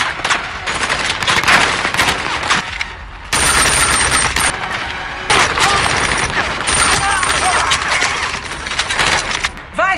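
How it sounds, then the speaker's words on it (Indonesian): Gunfire in a film shootout as guards and mercenaries open fire: dense, loud bursts of rapid shots running almost continuously through the scene, with brief lulls and overlapping cracks, mixed with other action noise. "Para penjaga dan tentara bayaran yang dipimpin Richard datang dan mulai menembak."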